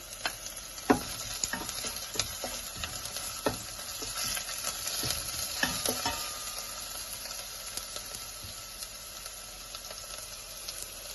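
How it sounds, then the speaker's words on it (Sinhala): Garlic and pandan leaves fry in oil in a pan, a steady close sizzle broken by occasional stirring scrapes and clicks of a utensil, moderate level, without any talking. "පොඩ්ඩක් තෙල් එකේ බෙදෙන්න දෙන්න."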